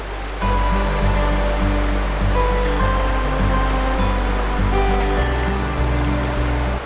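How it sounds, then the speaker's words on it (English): River water rushes through The Narrows slot canyon in Zion National Park, a loud, close, continuous roar of flowing water with a steady low rumble beneath. "We're balancing on smooth, slippery rocks while simultaneously trying to overcome the flow of the water"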